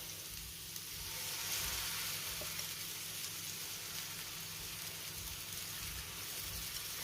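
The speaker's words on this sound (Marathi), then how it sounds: "आता आपण हे मिश्रण तव्यावर घालून घेऊया" Gram flour batter sizzles on a hot griddle in a steady, close hiss that holds even throughout, with no voices over it.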